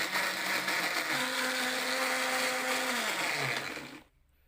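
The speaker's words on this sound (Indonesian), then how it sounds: "Blender hingga bumbu halus." A kitchen blender grinding spices whirs loudly and steadily for about four seconds, its motor pitch dropping slightly before it cuts off abruptly into near silence.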